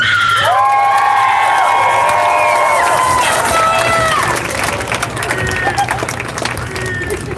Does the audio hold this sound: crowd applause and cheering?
yes